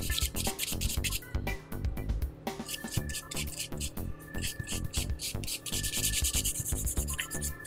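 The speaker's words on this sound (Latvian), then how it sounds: "Tā ar vīlīti mēs novīlējam gan gēlu, gan ļoti uzmanīgi pa dabīgo naziņu." A hand nail file rasps over gel and natural nail in quick, close back-and-forth strokes, a steady scratchy rhythm throughout with a voice talking over it.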